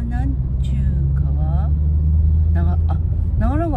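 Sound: rush-hour car traffic on Route 23

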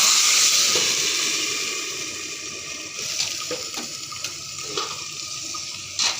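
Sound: boiled greens sizzling in hot oil

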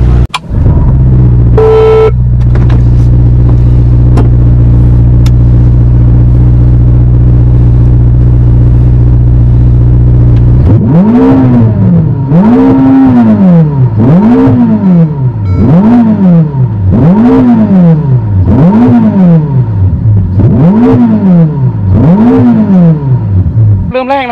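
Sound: Ferrari SF90 Stradale engine revving

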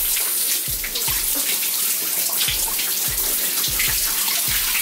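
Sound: water running while rinsing shampoo out of hair

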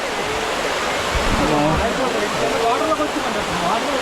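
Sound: Katiki waterfall in Araku valley, water falling from height

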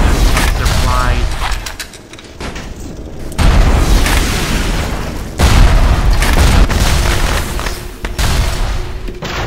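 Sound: grenade explosions in the video game Bioshock

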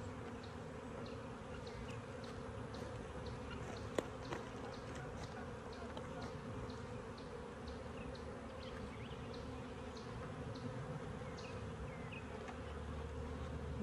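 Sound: honey bees buzzing around an open hive

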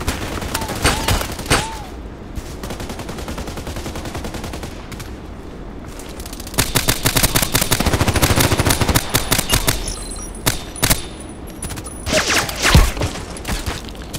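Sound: gunfire from the video game Contract Wars

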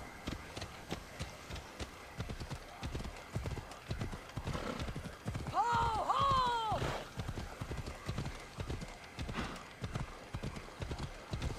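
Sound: horse galloping while riding in Assassin's Creed Odyssey video game

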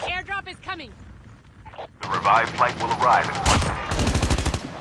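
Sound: gunfire in an online battle royale video game

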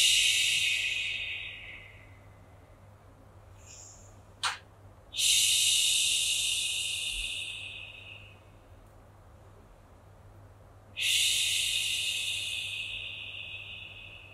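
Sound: shushing breath imitating ocean waves

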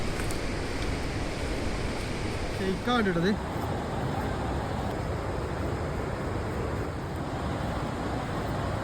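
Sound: Athirappilly waterfall flowing over rocks

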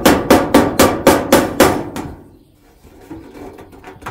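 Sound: hammer striking during roof repair

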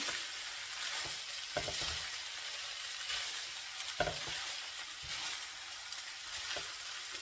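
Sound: spring onion greens frying in a pan

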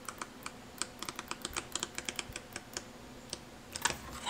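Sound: flipping through thick sketchbook pages

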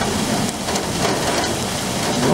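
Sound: thunder and rain during a storm

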